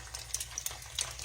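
Biscuits cook in a pan on a stovetop at moderate heat, giving a soft steady sizzle with faint scraping and stirring clicks, heard close and alone.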